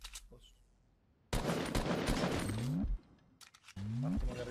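Video game gunfire in Fortnite, with loud bursts of rapid automatic shots in two main volleys separated by a short pause, plus weapon sounds.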